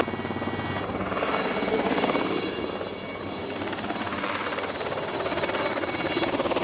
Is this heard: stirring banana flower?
no